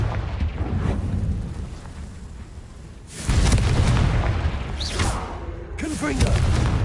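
A Confringo blasting spell explodes in Hogwarts Legacy, a loud, deep, broadband blast that bursts in partway through and rolls on over a rumbling in-game background.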